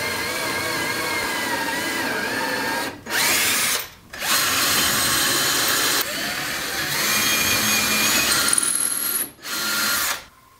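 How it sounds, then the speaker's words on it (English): Power drill boring screw holes into the lid of a teardrop trailer tongue box, several loud whirring bursts separated by short pauses and changes in pitch as the bit spins up and slows. "now I am going to drill my holes for where my screws are going to go in"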